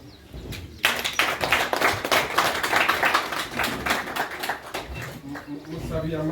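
An audience claps for a young man at a community celebration in Mayange. A dense stream of hand claps runs from just after the start to the end, with voices heard over it.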